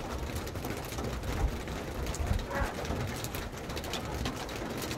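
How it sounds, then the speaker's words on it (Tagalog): Steady, dense heavy rain hisses continuously at a campsite in Tanay, Rizal, Philippines, with occasional soft cooing birds faintly audible beneath the downpour. "Hindi pa rin tumitigil yung ulan."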